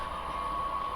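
An HO scale model train hums along steadily with a constant high whine and low rumble, close by and continuous, no voices.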